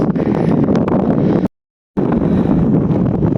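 Strong wind gusts over a mountain hillside on the way up to a hillside corn-planting plot, a loud, roaring buffeting against the microphone that drops out briefly mid-way, then resumes, with no talking.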